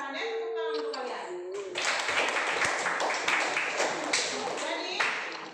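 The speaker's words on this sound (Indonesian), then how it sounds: "Tepuk tangan untuk kalian." Students in a classroom clap after a teacher's question. A voice speaks over a quiet start, then a burst of scattered, uneven hand claps from a small group fills the remaining seconds.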